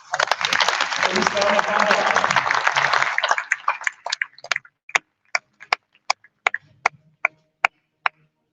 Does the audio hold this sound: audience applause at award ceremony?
yes